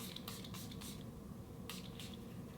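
A Ginger and Kombucha Chill Mist setting spray fires in quick bursts, a rapid string of short airy sprays, then a pause and another pair of puffs, close and soft against a low background hum.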